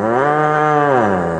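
A single long, loud ox moo with rich harmonic tones sustains steadily for about a second and a half, close to the microphone, with no talking over it.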